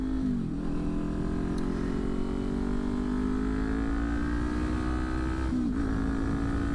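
A 2023 Kawasaki Ninja 400 motorcycle engine running steadily while riding, with a loud, continuous close-up drone and brief dips and shifts in pitch near the start and again near the end.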